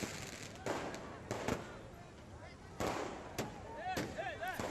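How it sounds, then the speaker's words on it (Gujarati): Firecrackers set off in bursts, sharp loud bangs cracking out one after another at irregular intervals, with some whistling, crackling sparks and voices in the background. "વિડીયોમાં જોઈ શકાય છે કે આરોપીઓ બેફામ રીતે ફટાકડા ફોડી રહ્યા છે"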